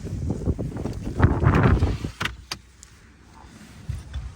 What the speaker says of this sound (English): Closing the tailgate, it is automatic.